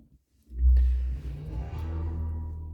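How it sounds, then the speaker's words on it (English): Start-up sound of a 2024 Mercedes EQE SUV AMG electric car: a deep synthetic swell that rises quickly after a brief pause, then holds as a steady low hum with a soft tonal shimmer above. "That's the sound of the AMG starting."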